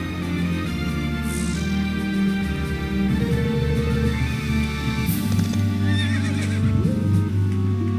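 Horses neigh and whinny in the Berwick Saga video game, a steady loud bed of game sound with whinnies and faint hoof clip-clop throughout.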